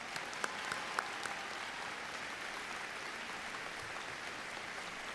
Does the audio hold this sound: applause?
yes